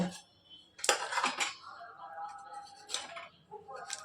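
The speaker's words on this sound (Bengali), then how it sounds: "সিটিটা বসেও গেছে এবার ঢেলে নেব আর কেমন হয়েছে দেখব" A pressure cooker is opened after whistling and food is poured out in a kitchen, giving sharp metallic clanks and scrapes of pot and utensil with short clinks between.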